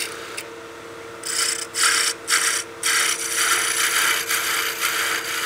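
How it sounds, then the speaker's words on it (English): A spindle gouge cuts a wooden birdhouse ornament finial on a lathe, giving a bright scraping, rasping sound that comes and goes in several strokes of varying length, close and fairly loud. "Get back in there with the tip of the spindle gouge, and that should give us a nice clean cut."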